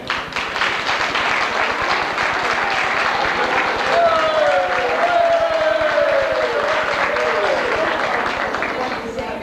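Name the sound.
audience applause at ceremony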